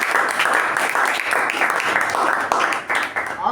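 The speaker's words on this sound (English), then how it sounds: "let's give a round of applause to Abhijit for keeping the time." A room full of people applauding at a Toastmasters meeting, a steady wash of clapping that carries on for several seconds and thins out near the end.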